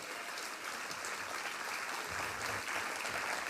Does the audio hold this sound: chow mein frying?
no